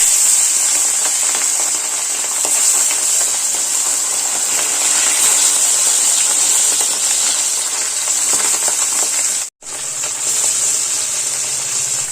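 Tangra fish frying in hot oil, a loud, continuous hissing sizzle that holds steady close up and cuts out briefly once before resuming.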